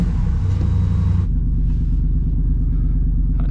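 A Jeep Wrangler JK Rubicon engine idles steadily after starting, a loud close rumble that drops to a lower, smoother idle partway through, with no talking.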